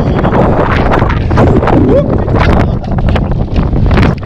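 Strong wind buffets the microphone outdoors on a long bike ride, a loud, continuous rushing roar that barely lets up.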